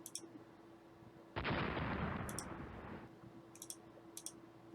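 Naval gunfire in the warship strategy game Rule the Waves: a single loud, broad blast that rumbles for about two seconds before fading, with sharp interface clicks before and after.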